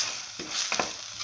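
Potato bread stir fry being stirred in a pan, soft scraping strokes over a steady background sizzle, close and fairly quiet, with no talking.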